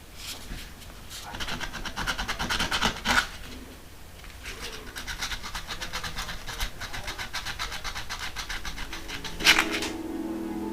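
A custom Gulf racer car body is sanded by hand with 320 grit sandpaper, giving a steady series of rasping, scratchy strokes up close with a couple of sharper scrapes.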